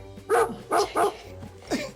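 A dog barks close by, four quick, sharp barks in a short burst with brief gaps between them, loud against a quiet background.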